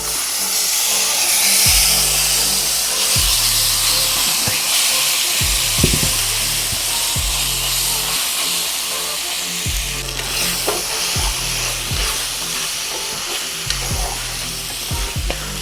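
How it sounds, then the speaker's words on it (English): Marinated black pepper beef stir fries in a pan over a high flame, sizzling steadily and loudly throughout, with a rhythmic metallic scraping of stirring repeating about every second. "So here we will stir fry this beef at least for 10 minutes on the highest flame possible on your stove."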